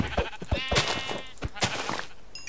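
Sheep bleat repeatedly in the Minecraft video game, several short wavering bleats in quick succession mixed with game clicks and thumps.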